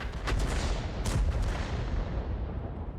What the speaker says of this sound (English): My shots are not going exactly where I'm aiming them.